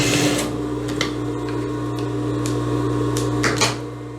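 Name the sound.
sewing machine stitching the V neckline of a lace blouse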